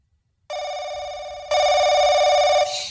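A telephone rings loudly and close, a sustained electronic bell tone that starts abruptly, steps up in strength partway through and holds for over two seconds before a brief breathy noise at the end.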